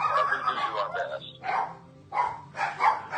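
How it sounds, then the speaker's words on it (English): Pet dogs bark excitedly indoors while a doorbell rings, the yapping repeated in bursts, mixed with someone talking over the commotion. "While my doorbell rings and my dogs go berserk"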